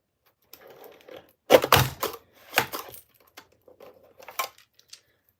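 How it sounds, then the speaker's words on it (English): A Tim Holtz die cutting machine pressing paper through, heard as a few loud crunching, grinding passes close by with quieter mechanical clicks between them and no talking. "And let's see how many of these lovely things Tim Holtz will let me cut."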